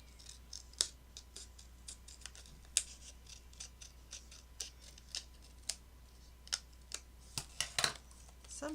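Scissors trimming paper for a handmade explosion box, a close, quiet series of crisp snips spaced out at an uneven rhythm, bunching into quicker cuts toward the end.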